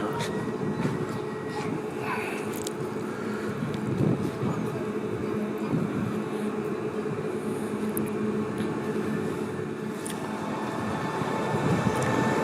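A PKM train arriving at Poznań station rumbles steadily with broad low mechanical noise and faint squeaks, moderately loud and continuous throughout, with no clear talk.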